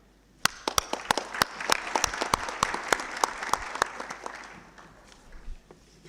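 An audience at a ministerial roundtable panel breaks into applause, many hands clapping steadily and fairly loudly, then thinning out and fading toward the end.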